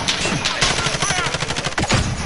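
Rapid bursts of gunfire in a Call of Duty multiplayer match, sharp repeated shots firing close and loud in quick succession while aiming at an enemy sniper.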